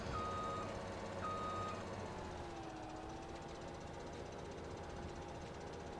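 A tractor in Farming Simulator 17 reverses to hook up a trailer, with a few quiet reversing beeps over a steady low engine hum that keeps on throughout.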